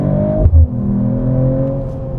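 A Mercedes CLE 53 AMG coupe's engine hums steadily up close, with a brief low thump partway through before the tone settles into a smooth, rising drone.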